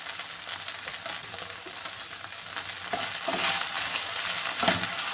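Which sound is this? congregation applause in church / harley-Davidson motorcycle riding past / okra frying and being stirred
okra frying and being stirred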